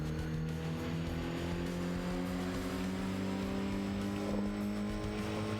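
The turbocharged racing car engine in Shutokou Battle drones continuously at high revs, a steady buzzing tone held close and loud throughout, with no speech.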